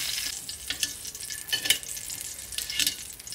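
Carrots and potatoes pan-frying in oil give a bright, continuous sizzle up close, with brief crackling bursts and a few soft stirring scrapes, and no one speaking.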